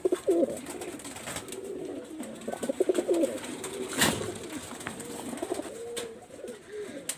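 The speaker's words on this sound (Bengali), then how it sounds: "এই পেয়ারটা রয়্যাল টেডি মাস্টার পেয়ার কবুতর।" A pair of Royal Teddy Master pigeons coo repeatedly at close range, soft throaty rolling calls that recur through the stretch, mixed with a few sharp knocks and a louder rustle midway.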